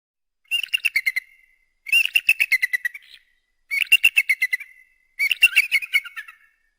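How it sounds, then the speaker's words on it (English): An eagle gives four separate bursts of rapid, high, piping chirps, each a quick run of notes that fades away, spaced by short silences, clear and fairly close with no voices. "eagle"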